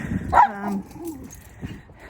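A dog barks once, close and loud, followed by a softer whine and a faint yip during a walk outdoors.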